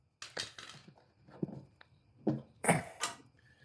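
Metal creaks and clicks from working a hose clamp loose on a 1970s Ariens snowblower with a plastic fuel tank, a few close, irregular bursts of scraping and squeaking with short quiet gaps.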